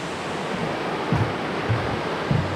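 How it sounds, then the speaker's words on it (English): Rapids rushing along a river on the Foothills Trail in South Carolina, a steady broadband roar of water heard from the opposite bank, with a few low thumps rising briefly above the constant wash. "Obviously on the opposite side of the rapids here."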